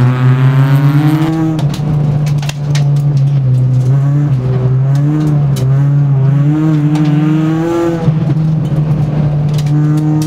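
Loud, close engine drone from inside a Peugeot 206 RC race car on a track, its pitch rising and falling as it accelerates through a corner and then pulls hard again.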